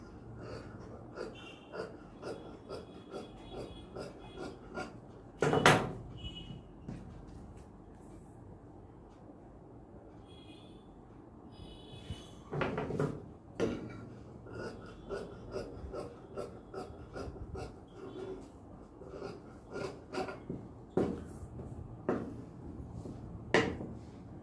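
Scissors cutting through fabric for a chudidar top on a tailor's table, with repeated crisp snips and rasping slides along the cloth, close and fairly quiet, with occasional louder rustles as the fabric is moved.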